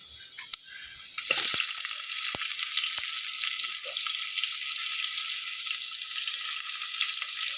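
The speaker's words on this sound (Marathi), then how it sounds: "तर यात थोडीशी टाकते जिरी, आणि घेते कांदा भाजून." Onion and cumin seeds frying in a pan, a steady bright sizzle after a few sharp clinks and a short burst as they hit the oil, continuing evenly with no talking.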